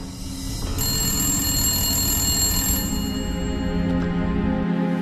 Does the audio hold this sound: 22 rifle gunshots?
no